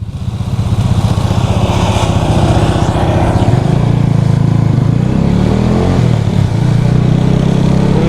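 A motorcycle ridden round a corner in second gear, its engine loud and close with a steady buzzing drone that shifts pitch as it rolls through the turn, no talk.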